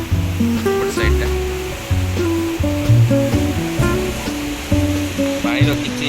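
Strong water rushes and roars through a channel near a divide, heard as a loud, continuous broadband wash with a voice talking over it.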